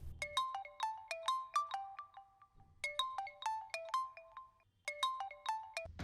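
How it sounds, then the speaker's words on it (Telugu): A phone ringtone plays an incoming call: a bright electronic melody of rising and falling notes, heard in three repeated bursts with short gaps, clear and fairly close with no talk over it. "నాన్నారు ఫోన్ చేస్తున్నారేంటి?"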